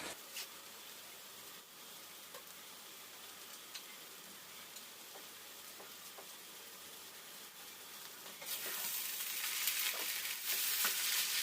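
Onion and spring onion frying on low heat in a pot while cooking beans and rice jollof, making a steady, soft sizzle with a few small pops, growing brighter and louder near the end, with no voices.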